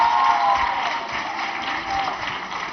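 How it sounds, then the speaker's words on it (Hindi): An audience at a women's skill-training institute quiz show applauds a contestant, a steady wash of many clapping hands with faint crowd murmur, sounding somewhat muffled and distant. "शहाना परवीन के लिए जोरदार तालियां बजाइए, जोरदार तालियां बजाइए, तालियां जोरों से बजाइए"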